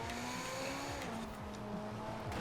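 A car drifts through a race in Forza Horizon 4, its engine droning steadily while tires squeal in long, continuous streaks that rise and fall over the run.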